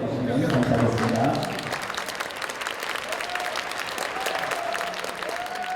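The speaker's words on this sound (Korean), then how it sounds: "우리 박수로 맞이해 주시면 감사하겠습니다." Sustained audience applause welcoming two elderly alumni professors at a school assembly at Soongsil Middle and High School, loud and dense at first and then settling into steady clapping with voices faintly underneath.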